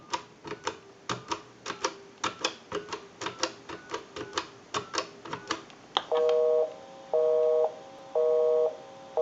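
Rapid mechanical clicks of a rotary-style dial on an original-model Mickey Mouse telephone run for several seconds, then a telephone tone pulses in three steady on-off beeps.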